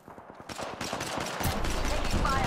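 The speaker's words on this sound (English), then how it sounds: "Shooting." Gunfire in a sci-fi shooter video game: a quick rhythmic string of shots that builds into a continuous loud fusillade over a couple of seconds, with game voices and effects mixed in.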